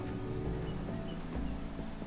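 Horse hooves in the Game of Thrones video game clip-clop at a steady trot under a constant low drone, moderately loud.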